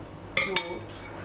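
Two quick, bright clinks of a spoon against a deep bowl as yogurt is spooned in for a lentil soup sauce, close and isolated over quiet.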